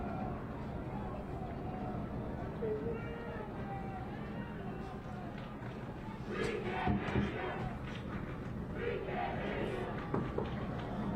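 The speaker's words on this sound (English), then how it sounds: "The crowd is going wild." A crowd at a girls' flag football game cheers and yells steadily from the stands, rising into louder whoops and shouts partway through, with a commentator talking over the noise.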